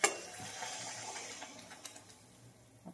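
Water poured into a pan of hot oil and frying masala bursts into a loud sizzle that slowly settles into a steady hiss, with a spoon or lid clinking now and then, close by.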